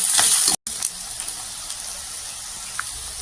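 Chopped onions, two to three of them, sizzle in hot oil in a pan, a steady hissing fry with a brief cut near the start, no voices.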